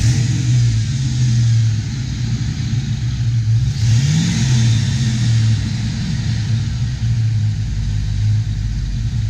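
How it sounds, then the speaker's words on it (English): A 1992 Ford Mustang GT engine with a cold air intake and bigger throttle body rumbles steadily with a brief rev partway through, its low drone continuous and fairly loud throughout. "Give it a little gas."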